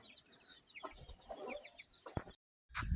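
Chickens clucking softly at close range in a farmyard, a run of short irregular clucks and chirps, with a brief pause near the end before more noise resumes.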